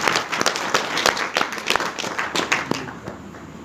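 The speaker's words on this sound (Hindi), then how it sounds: "तालियां बजा दो एक बार" A group of people claps in a short, uneven burst of applause, close and fairly loud, fading toward the end.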